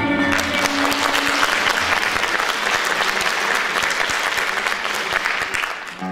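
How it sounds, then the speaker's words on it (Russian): Loud audience applause fills the hall after an Indian dance show-ballet performance, steady dense clapping with a faint tonal hum beneath, tapering slightly at the end. "Под ваши бурные аплодисменты шоу-балет индийского танца «Амрапали»."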